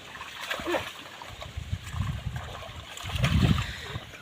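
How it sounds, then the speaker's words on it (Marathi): Muddy water splashes and sloshes as a flooded rice field in the Konkan is puddled for traditional farming, with repeated close, churning bursts that swell near the end. "पूर्ण अशी चिखलनी करून ते शेती तयार करतात"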